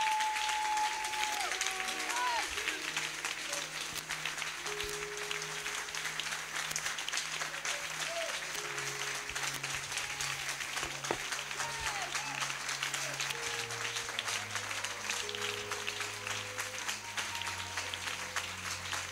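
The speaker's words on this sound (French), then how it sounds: "Lève-toi et acclame pour Jésus." A church congregation claps and cheers for Jesus in sustained, dense applause, with voices rising through the crowd noise the whole way.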